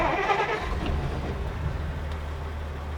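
A Willys Utility Wagon engine running after starting, a rough continuous low rumble close by that holds steady for a few seconds.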